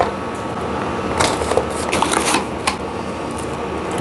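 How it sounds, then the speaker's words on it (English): Close rustling and crinkling as hands rummage through loose packing peanuts in a freshly opened cardboard box, with a few sharper crackling bursts in the middle and quiet moments around them. "Ah, packaging peanuts."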